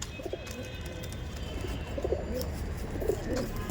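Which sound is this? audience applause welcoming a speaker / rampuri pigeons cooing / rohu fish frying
rampuri pigeons cooing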